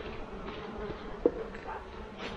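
Honeybees buzz around an open beehive, a faint, steady drone of many insects close by, with a brief louder buzz passing near midway.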